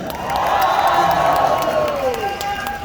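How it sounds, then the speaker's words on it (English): An anime convention crowd at Anime Fest cheers and whoops loudly and steadily for a few seconds, dense and close. "Cheer louder!"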